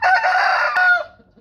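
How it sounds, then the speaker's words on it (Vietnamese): A rooster lets out one loud, close, sustained crow lasting about a second, its tail trailing off into quiet, with no voices over it. "Tụi bay im lặng hết cho nó gáy coi."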